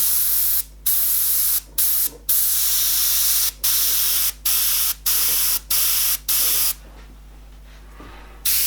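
An airbrush sprays paint in repeated bursts while detailing a skull and green true fire artwork, a steady close hiss broken by short pauses, fading softer near the end.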